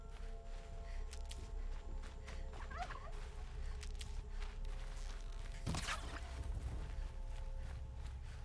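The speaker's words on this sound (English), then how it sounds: "Bird's gonna give me away." A bird calls in the Horizon Zero Dawn video game, a few short gobbling cries over quiet ambient game sound with light footsteps and clicks.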